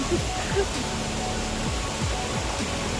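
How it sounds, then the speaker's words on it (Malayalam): A small waterfall near a house produces a constant rushing wash of water, with a person talking over it. "നമ്മുടെ വീടിൻ്റെ അടുത്ത് തന്നെ ഒരു വെള്ളച്ചാട്ടം വേണമെങ്കിൽ നമുക്ക് പറയാം"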